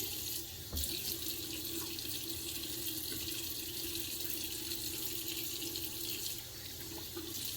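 A tap runs steadily into a sink, a continuous splashing rush of water that stays even from start to finish.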